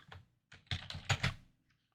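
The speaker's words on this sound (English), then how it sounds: "I can actually type the text back in" Computer keyboard typing in a quiet room, a short run of roughly eight clear keystrokes in uneven bursts, close and moderately loud, with no one speaking.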